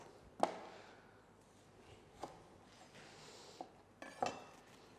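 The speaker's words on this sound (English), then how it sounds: "can't wait to cut my lemon with a Fury knife" A Fury knife cuts through a lemon on a board, with several sharp isolated taps and clinks spaced a second or two apart, quiet and close.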